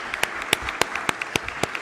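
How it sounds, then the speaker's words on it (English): Sparse clapping at a European higher-education conference panel, a few distinct hand claps spaced through a quiet room rather than a full ovation, each sharp and close. "A big applause for Johannes"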